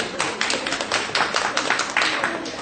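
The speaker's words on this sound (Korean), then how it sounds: "박수, 박수, 박수! 박수 쳐드립시다" An audience at a church family seminar claps steadily in a dense, lively patter of hand claps that carries through the whole stretch at an even, fairly loud level.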